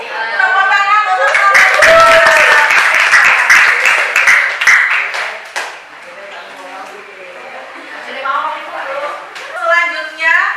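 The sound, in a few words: applause for a group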